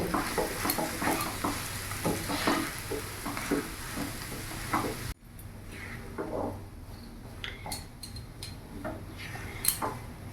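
Mashed boiled potato filling stirred and fried in a pan, with scraping and clinking of a utensil against the pan over a soft sizzle; it turns quieter halfway through, leaving sparse sharp taps.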